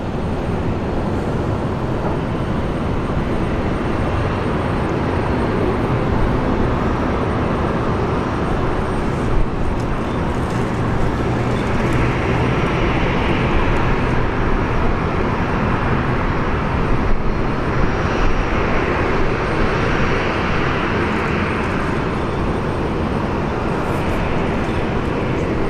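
An airplane at Brisbane International Airport gives off a loud, sustained engine roar that fills the whole stretch, swelling slightly in places without ever dropping away.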